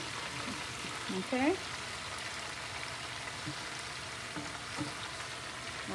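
Chopped seasonings for Jamaican brown stew chicken hit a hot pot and set off a steady, low frying sizzle that runs the whole time, with a brief clatter near the start and a single short spoken word over it.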